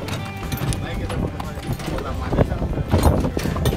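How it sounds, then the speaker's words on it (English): Horse hooves clip-clop steadily as the animal pulls a carriage through Viñales, Cuba, close by amid road and street noise, with a voice talking over it. "So we've got our horse carriage now."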